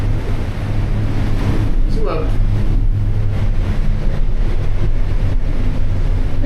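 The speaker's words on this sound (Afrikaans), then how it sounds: "En die wind waai so dat hierdie hele toring so heen en" Wind blows hard through a broken old army lookout tower on top of Mariepskop, a loud, constant roar and buffeting against the microphone, while someone speaks briefly over it.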